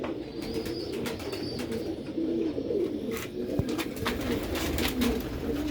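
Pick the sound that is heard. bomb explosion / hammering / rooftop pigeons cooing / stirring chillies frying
rooftop pigeons cooing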